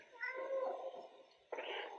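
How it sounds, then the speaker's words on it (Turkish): A cat character in the video game Stray meows, with a soft, drawn-out mew followed by a second, brighter meow, close and fairly quiet. "Al sana miyavlayayım."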